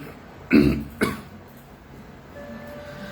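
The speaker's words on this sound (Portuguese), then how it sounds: "O espírito começou a tossir fortemente." Two hard, violent coughs in quick succession, close and loud, followed by a quiet room with a faint steady hum.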